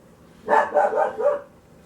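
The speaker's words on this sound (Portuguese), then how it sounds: "em circunstância do latido do bichinho" A small dog yaps in a quick burst of three or four barks, slightly distant, then quiet.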